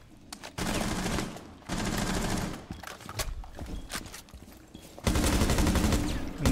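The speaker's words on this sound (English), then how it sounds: "Sketchy gunfight, but we won it out." Gunfight in the video game Rainbow 6 Siege: bursts of rapid automatic gunfire in three loud stretches, separated by quieter gaps with scattered single shots and movement.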